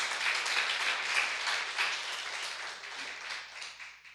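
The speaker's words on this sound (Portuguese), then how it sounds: "Aplauda o Senhor, amado, logo no primeiro momento, em nome de Jesus." Congregation in a church applauding, a fairly quiet, distant wash of steady clapping that gradually fades toward the end.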